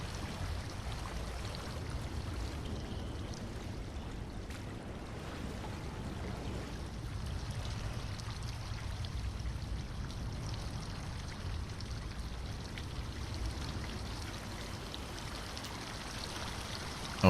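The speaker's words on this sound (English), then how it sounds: "Oh, I hear water." Running water in the drain simulation game DrainSim flows steadily and continuously at moderate volume, a constant rushing wash with no breaks and no talking.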